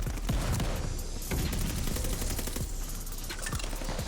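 An M1928 submachine gun in the video game Call of Duty Vanguard fires rapid sustained automatic bursts with brief pauses between them, loud and close over a dense battle background.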